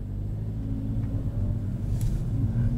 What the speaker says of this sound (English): I'm giving it a little bit more gas.